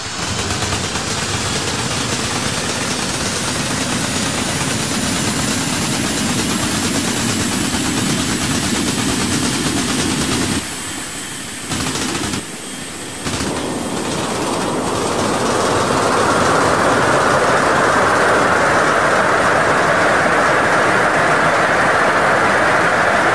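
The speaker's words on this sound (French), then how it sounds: "le truc qui m'échappe sur cette voiture, c'est le son du moteur. J'ai jamais vu un moteur avec un son pareil." A steady, loud high-pitched electric car motor whine with broadband rushing noise, briefly dipping, then rising into a brighter hum as it speeds up.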